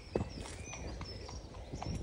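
A horse being hacked out on its first ride walks along, hooves clip-clopping in an even four-beat rhythm, fairly faint and slightly distant, with no talking.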